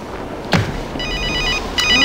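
A telephone rings indoors with a bright, rapid electric bell trill, two bursts separated by a short pause, with a brief thud before the first ring.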